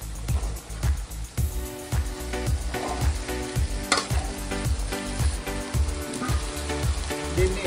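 Steady sizzling of beans and vegetables frying in a pan for vegetable dum biryani, with a regular scraping rhythm of a spoon stirring and tossing them, loud and close throughout.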